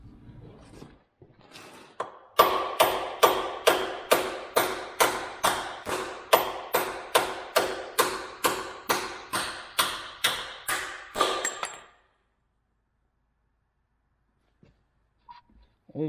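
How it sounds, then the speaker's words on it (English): A stuck bushing on a mini excavator is driven out with a hammer in a long run of about twenty steady, evenly spaced metallic blows that stop abruptly, followed by near silence. "But let's try with the hammer first."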